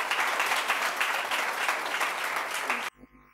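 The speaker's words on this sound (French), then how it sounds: "des applaudissements encore pour le club de littérature et d'art et philosophie." An audience claps for a literature, art and philosophy club, a dense, even burst of applause that cuts off abruptly near the end, leaving brief quiet with a faint bump.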